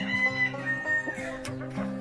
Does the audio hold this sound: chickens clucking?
yes